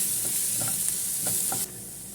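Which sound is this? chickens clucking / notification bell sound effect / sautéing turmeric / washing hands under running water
sautéing turmeric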